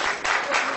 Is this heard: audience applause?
yes